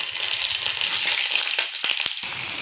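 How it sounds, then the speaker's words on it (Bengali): Boiled potatoes dropping into hot oil in a kadai, a loud hissing sizzle that wavers and then breaks into several short crackling bursts near the end. "এবার আলুগুলিকে ভেজে নেব।"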